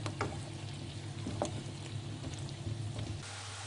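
Potatoes frying in a pan alongside a whole chicken, a continuous soft sizzle with occasional crackles and a scrape of stirring, close and moderately quiet with no talking.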